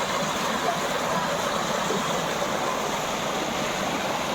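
Water flowing in a stream in the Kauda valley, a steady close rushing wash that stays even and unbroken, with no voices.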